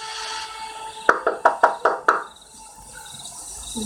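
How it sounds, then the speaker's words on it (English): Six hard, quick knocks on a door in a steady burst, ringing briefly in a quiet room with low background hum. "There was no doorbell, so I just knocked really hard."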